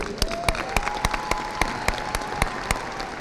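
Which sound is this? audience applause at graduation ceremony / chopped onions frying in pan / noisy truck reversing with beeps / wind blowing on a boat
audience applause at graduation ceremony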